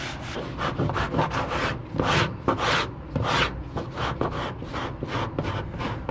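A cheese-grater-style file scrapes cured Bondo body filler off high spots on an old-school NASCAR car body, giving a steady run of rough, rasping strokes, about a dozen, close and fairly loud, with no talking.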